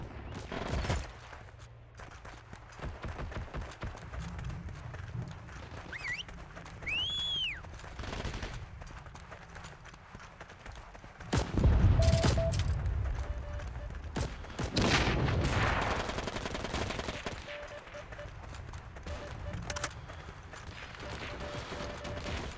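Gunfire from the Heroes & Generals battlefield game, with bursts of machine-gun and rifle shots, sharp cracks and a heavy boom, some near and loud, mixed with battle noise and a voice talking at times.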